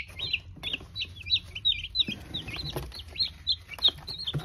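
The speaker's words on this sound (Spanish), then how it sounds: "Vamos a soltar a los pollitos para ir empezando." Young broiler chicks let out of their pen, a busy run of high, quick peeping chirps overlapping close by, with soft shuffling and thumps beneath.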